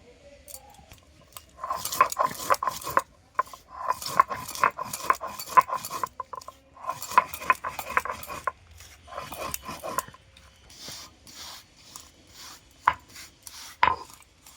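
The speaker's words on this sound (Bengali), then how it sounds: "ভাজা মশলাটা আমি ঠান্ডা করে নিয়েছি এইটা আমি শুকনো ছিলে বেটে নেব" Roasted dry spices being ground dry on a flat grinding stone with a stone roller, heard as near, rhythmic knocking and grating strokes in several bursts separated by brief pauses.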